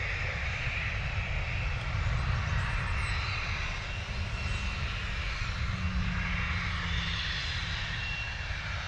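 A Ryanair Boeing 737 landing at London Stansted, its engines giving a fairly quiet, steady broadband rush and hum that stays even and somewhat distant, with no talking.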